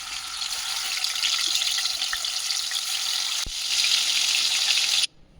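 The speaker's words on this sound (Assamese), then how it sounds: "তাৰপিছত ব'লক মাছখিনি ধুনীয়াকৈ ভাজি লওঁ।" Fish frying in hot oil on a gas stove, a loud, continuous close sizzle and crackle that holds steady, with a brief clack partway through before it cuts off abruptly near the end.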